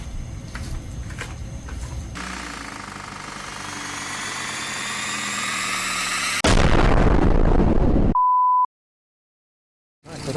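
A motorcycle engine left running after an oil pressure light check gives a loud steady roar, then a harsher, louder burst. It is cut off by a short beep and a moment of silence, and no one speaks.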